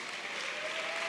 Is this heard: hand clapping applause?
yes